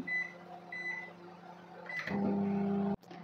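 A few soft beeps sound, then a microwave oven baking a cupcake on a two-minute timer hums steadily with a low drone before stopping abruptly with a click.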